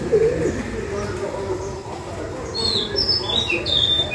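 Pigeons wandering outdoors in search of food give soft, low, repeated coos, with a few high chirps from other birds and a muffled background of voices and ambient noise.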